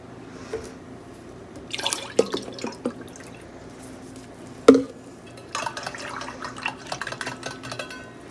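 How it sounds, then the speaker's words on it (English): Water trickles and splashes into a glass in short bursts, with a sharp clink of glass partway through and soft kitchen handling noise nearby. "I'll put half a thing of water in and then top it off with ice"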